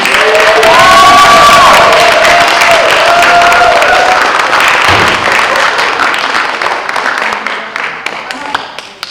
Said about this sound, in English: Let's give our speakers another round of applause.